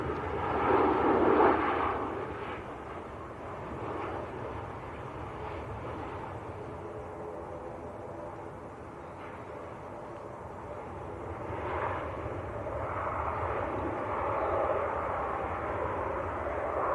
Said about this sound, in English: registered Ryanair in from Lisbon, down in Portugal. 800 series 737.